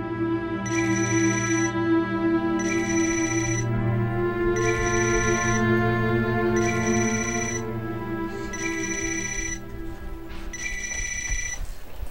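A cellphone rings loudly and up close with a tonal ringtone, repeating in regular bursts about once a second over a low musical bed, with no talk.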